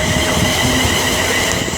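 Class 352 train, unit 352.41, running through Milton Keynes Central on the West Coast Main Line, a loud close rumble of wheels and rail with faint squealing, continuous and steady.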